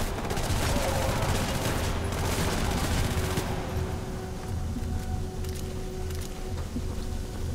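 Gunfire in the video game Hatred, a dense, loud fusillade of overlapping shots and rapid bursts that rolls continuously, thickest in the first few seconds, then thins into scattered shots over a steady background din.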